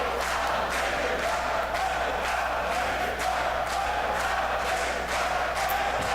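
Crowd at an indoor wrestling show, a continuous roar of cheering and shouting, distant and steady with rhythmic claps and stomps.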